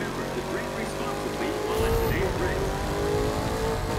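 Engine of a race car in The Crew 2 racing game with a Camaro among the field, a continuous revving drone that swells midway with a brief squeal, under someone talking.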